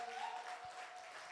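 Church congregation applauding and cheering, a steady, moderately distant wash of clapping that holds evenly through the moment with no clear voice above it.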